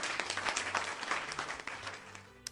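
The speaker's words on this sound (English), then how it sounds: "Redeem applause." A burst of applause redeemed as a sound effect on a live stream plays loud and close, a dense wash of clapping that fades toward the end, with faint talk beneath.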